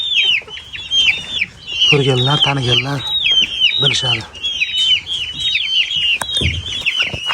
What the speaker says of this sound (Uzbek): Bu yapon tovuqlarim meni